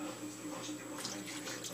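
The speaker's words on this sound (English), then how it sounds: "I'm going to pour in my beef broth by Swanson." Swanson beef broth, the 50% less sodium kind, pours steadily into a crock pot over seasoned pot roast meat, a continuous liquid splashing wash at close range.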